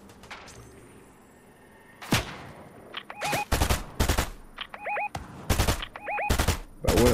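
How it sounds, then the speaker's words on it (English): Gunfire in the Fortnite video game: several sharp broadband shots and short bursts ring out from about two seconds on, some stacked in quick succession, loud and clear over quiet game ambience with no talking. "somebody shooting at me"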